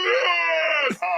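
A man cries out for help in wartime combat footage, a loud, strained, sustained wailing scream that falls in pitch, breaks off briefly, then resumes, heard alone and up close.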